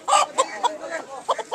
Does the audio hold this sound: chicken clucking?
yes